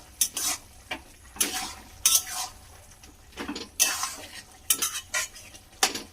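Vegetables cooking with ghee in a pan give a faint sizzle beneath bursts of stirring, as a metal spoon scrapes and knocks against the pan in uneven strokes.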